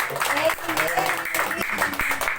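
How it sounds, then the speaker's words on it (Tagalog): Applause rises from a congregation during a church service, a loud, patchy wash of clapping mixed with voices talking over it throughout. "Isang malakas na palakpak po sa ating Diyos na buhay."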